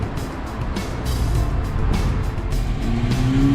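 A Holden VX SS with a 5.7 litre LS1 V8 drives past at a car show, its deep, rumbling engine note building slightly as it moves close by, with no talk over it.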